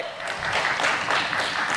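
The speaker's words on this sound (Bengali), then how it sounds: "এখন করতালি হবে জোরে।" Loud, sustained applause from an audience at a literary award ceremony, a dense steady clatter of clapping hands filling the whole stretch without speech.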